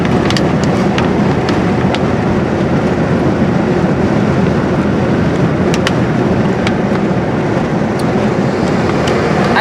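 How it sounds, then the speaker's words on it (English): Wind gusting through an open car window, a loud, continuous rushing roar buffeting the microphone across the whole stretch, with faint ticks and clicks scattered on top and no talking. "Sorry about the wind."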